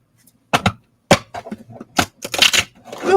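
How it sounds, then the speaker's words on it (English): Crisp papery riffling and snapping bursts come close up in uneven clusters as an oracle card deck is shuffled and bridged. "One more shuffle."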